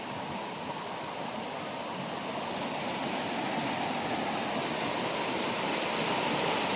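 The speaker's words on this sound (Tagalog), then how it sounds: "So ito yung waterfalls na nasakupan ng Baligyan, Zamboanga del Norte" A small waterfall in Baliguian, Zamboanga del Norte rushes steadily as an unbroken broadband hiss, close and moderately loud, with no pauses and no voices.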